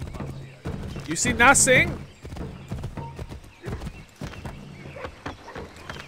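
Rhythmic hoofbeats clop along steadily while a horse in the video game Assassin's Creed III whinnies partway through; someone speaks briefly over the sounds.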